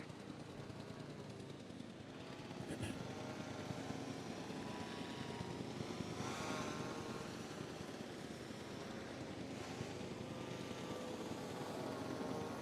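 A helicopter in Jurassic World Evolution 2 airlifts an asset, its rotor a continuous dense thrumming drone that holds steady and fairly loud throughout, with no talking.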